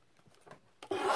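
Paper edge trimmed for a journal page: soft, faint rubbing strokes, then a brief, louder, close scraping cut near the end, with no talking.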